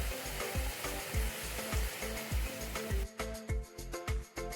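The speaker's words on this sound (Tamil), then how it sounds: "குழம்புக்கு தேவையான தண்ணி சேர்த்துக்கலாங்க" Water goes into a pan of simmering drumstick and egg kuzhambu, and a loud, dense sizzle and bubbling follows with rhythmic stirring knocks, then the sizzle calms and softens.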